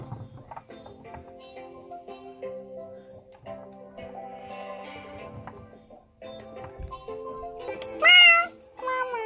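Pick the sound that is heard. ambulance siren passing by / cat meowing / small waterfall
cat meowing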